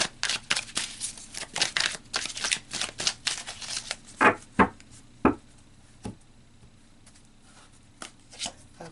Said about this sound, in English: I'm going to continue shuffling and pull more.